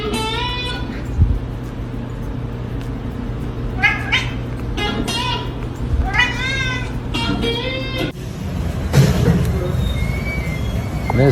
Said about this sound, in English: Every tiny meow is like a miniature love song, delicately sung to warm human hearts.